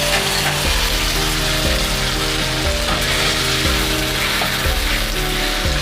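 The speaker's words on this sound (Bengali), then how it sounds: "এই মশলাটা আমি একটু কষে নেব" Paste of tomato, ginger and green chili being fried and stirred with spices for a soybean curry, giving a steady, loud, close sizzle that runs unbroken for the whole stretch.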